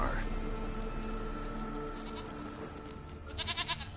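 A goat in a video game lets out a wavering bleat near the end, heard over a dense, steady game soundscape, with speech present.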